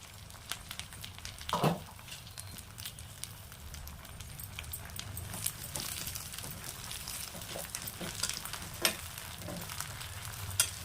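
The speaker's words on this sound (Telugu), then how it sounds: "బాగా మగ్గనివ్వాలి ఆయిల్లో ఆయిల్ అంతా పైకి తేలుతూ రావాలన్నమాట" Gongura leaves cook down in oil for a chutney, a soft, steady sizzle with scattered crackles and pops throughout.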